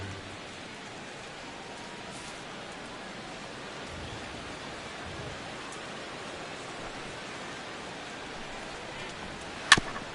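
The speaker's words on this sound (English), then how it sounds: "all of a sudden, it is pouring right now" Heavy rain pours steadily in MLB The Show 16 during a night game, Dodgers versus Cubs, a constant broadband hiss with one brief sharp click near the end.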